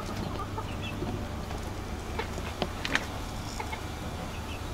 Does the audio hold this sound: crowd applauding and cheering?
no